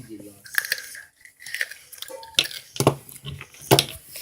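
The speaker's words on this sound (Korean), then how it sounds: "쩝쩝대면서 옆에서 먹고 있네요" Loud, wet smacking chewing close to the microphone, irregular bites and mouth sounds with brief pauses between them.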